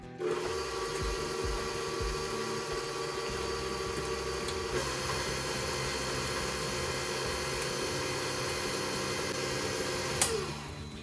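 An electric stand mixer whirring steadily as flour mixture is beaten into quick bread batter, a constant motor hum with a brief clatter near the end.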